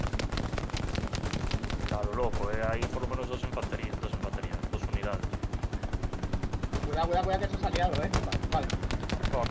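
Rapid, continuous machine gun fire in a multiplayer war video game, sustained loud bursts throughout with voices talking over the shooting.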